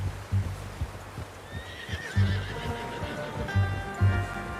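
A horse in a video game gives two shrill, wavering whinnies, the second longer and steadier, over a rhythm of heavy hoof clip-clops and soft ambient noise.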